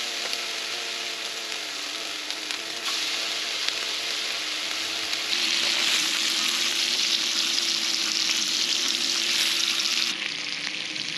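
Turkey bacon frying in a pan at an outdoor tailgate campsite, a continuous close sizzle and spatter that grows louder and brighter partway through, with no talk.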